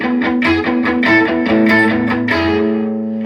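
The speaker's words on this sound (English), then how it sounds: "I'm just placing my hand over the bridge to cover the strings, so you still hear them" Electric guitar played with the picking hand resting over the bridge, giving short, damped, chunky palm-muted notes in a quick rhythmic pattern with some distorted effect coloring, loud and up close without speech.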